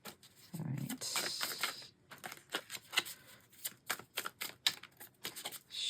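A horror-themed tarot deck being shuffled by hand, giving a quick burst of riffling followed by a string of soft, irregular card taps and flicks, close and quiet.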